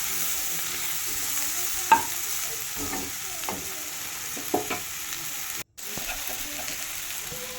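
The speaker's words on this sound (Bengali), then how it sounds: "পেঁয়াজ কুচিগুলো লাল লাল করে ভেজে নেওয়ার পর" Chopped onions frying in oil and being stirred in a pan, a soft steady sizzle with occasional spatula scrapes and taps, fairly quiet, with a brief dropout near the end.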